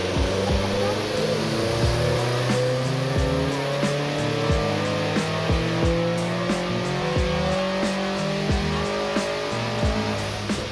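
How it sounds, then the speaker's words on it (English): A Subaru WRX Stage 4 runs on an all-wheel-drive dyno, its engine droning loud and close with repeated rising rev sweeps and rapid gear-like steps, sustained throughout with a faint voice underneath. "Now it's onto our all-wheel drive dyno, where we will perform a custom tune via the factory ECU"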